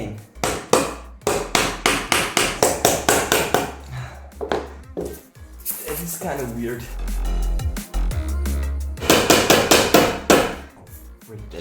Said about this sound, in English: You definitely need a hammer.